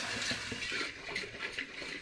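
Water swished around inside a glass demijohn being rinsed, a soft, sloshing gurgle with uneven splashy pulses, faint and close.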